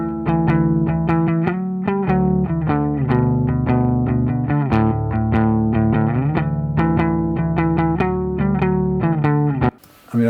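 A distorted electric bass guitar plays through a Rerun bass amp and Dynacord cabinet, with a few light effects. A steady run of thick, fuzzy, sustained notes continues for about ten seconds, then cuts out briefly right at the end.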